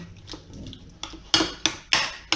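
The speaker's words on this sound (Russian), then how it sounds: "И все это мы хорошенечко перемешиваем." Oil and basil marinade being mixed in a bowl for pork loin, with soft scraping that turns into four sharp, evenly spaced clinks of a utensil against the bowl, close and fairly loud, with no talk.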